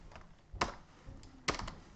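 A few soft key presses on a computer keyboard, quiet and close, with two slightly sharper clicks standing out amid faint background noise.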